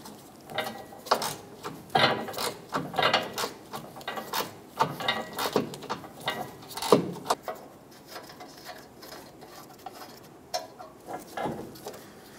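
A ratchet takes out the 13 mm rear hitch bolts on a 2014-2018 Chevrolet Silverado 1500, giving irregular bursts of clicking and metallic rattling with short pauses, close and moderately loud.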